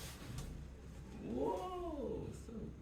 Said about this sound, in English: And there's my cat, Lucy.